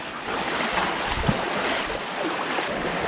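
Water rushes steadily down a creek in a canyon along the Kanarra Falls hike in Kanarraville, Utah, a loud, continuous and close wash of sound.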